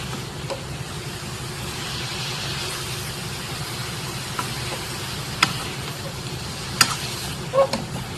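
Puti fish and cauliflower curry, spiced with chili, turmeric and a spoon of another spice, is stirred in a pan on a gas stove. A low, steady sizzle and soft scraping run throughout, with a few faint clicks and no speech.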